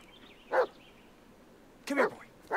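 A dog in the Blair Witch horror video game barks three times at mid distance, one single bark followed by a quick pair, over a quiet hissing ambience.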